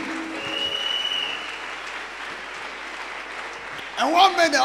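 A church congregation applauds in a steady wash of clapping that fades slightly, before a voice starts speaking at the very end.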